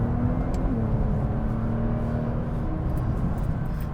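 600bhp Nissan GT-R accelerating on a British B road, a loud steady engine drone with whirring drivetrain and road noise heard from inside the car, a slight pitch rise as speed gathers.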